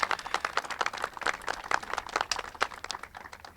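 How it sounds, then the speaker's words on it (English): A crowd at the Rupple Road ribbon-cutting ceremony gives a round of applause, a steady patter of many hands clapping throughout. "so I think we should give them another big round of applause"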